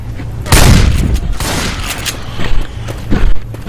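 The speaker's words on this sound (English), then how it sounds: "I'm gonna pipe bomb." A pipe bomb going off in the video game Left 4 Dead 2, a loud booming blast followed by a rolling burst of gunfire and further thuds, all close and dense, with no talk over it.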